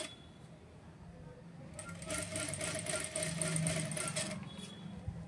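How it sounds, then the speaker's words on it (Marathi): A sewing machine stitches a finishing strip onto a square neckline, running in one steady, fast, rattling burst of about two and a half seconds between quieter pauses. "एकसारखी टीप मारून घ्या"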